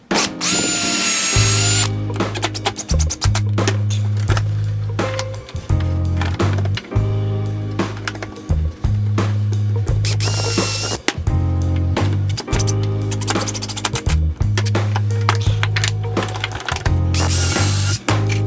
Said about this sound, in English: you want to make sure you're pre-drilling